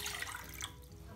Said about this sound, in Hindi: सस्पेन लिया है, इसमें 2 कप पानी डाल देंगे।